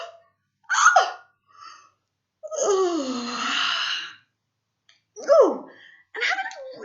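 A person yawns deliberately as an energising exercise, a long drawn-out breathy vocal sweep in the middle, framed by shorter gasping breaths and sighs.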